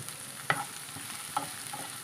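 Chopped green chili is sautéed in a pan: a faint, steady sizzle with two soft stirring scrapes.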